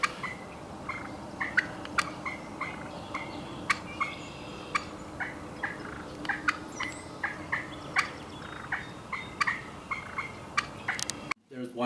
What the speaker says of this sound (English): We had one hen probably 5-10 yards in front of me and was squawking away at us